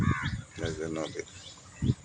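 Crows caw from a riverbank on the Padma where fishing boats cast nets, a few harsh calls at moderate distance in open outdoor air, with some voices present.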